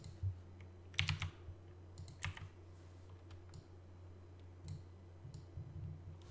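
Keys clatter on a DAS mechanical keyboard in short irregular bursts of clicks, quiet and close, with pauses between the flurries over a low steady hum.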